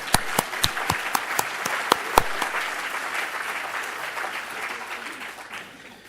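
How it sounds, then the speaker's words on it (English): Delegates at a closing plenary session applaud, opening with sharp, distinct claps that quickly merge into a full, sustained round of applause, which gradually fades toward the end. "I would like you to give yourselves a round of applause"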